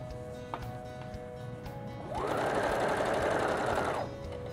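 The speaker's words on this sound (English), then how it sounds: "Back stitch a couple stitches, and then sew all the way around." A sewing machine runs in one steady burst of about two seconds, stitching around an elastic waistband casing, close and clear over a quiet room hum.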